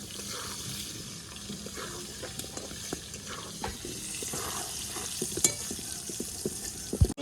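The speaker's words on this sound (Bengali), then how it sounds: "তেলের মধ্যে দিয়ে দিব আলুটা কিছুক্ষণ ভেজে নেওয়ার পর একটু পরে বেগুন দেব আলুগুলোকে ভেজে নিই" Potato pieces frying in hot oil in a pan for a Bengali hilsa curry with aubergine, a steady crackling sizzle with occasional stirring scrapes and small pops, close and moderately loud throughout.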